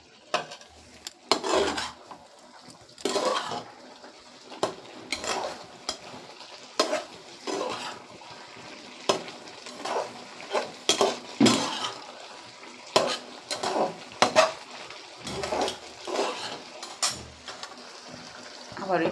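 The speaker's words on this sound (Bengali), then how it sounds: "ঢাকনাটা খুলে একটু নেড়ে দেব" Lau shak with poppy seeds stirred in an uncovered pan, a spoon scraping and clinking against metal in irregular bursts over a soft sizzle of frying greens, close and fairly loud.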